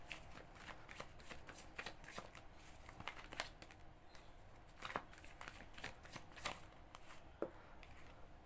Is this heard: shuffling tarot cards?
yes